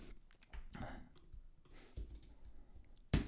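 Quiet clicking of a computer keyboard as a typing correction is made, short bursts of keystrokes with brief pauses and a sharper, louder click right at the end.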